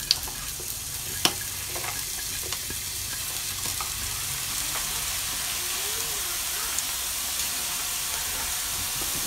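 Steady sizzling of onion frying in hot oil, a constant crackling hiss with a few sharp clicks and light stirring, close by and with no voices.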